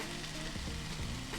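Food sizzling and frying in a big wok in a van kitchen, a dense, close, continuous crackle with some stirring movement.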